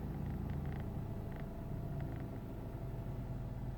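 A 2003 Mitsubishi Galant with a 2.4L four-cylinder engine idles at a low, rough rpm, a steady close rumble with a pulsing throb and no voices.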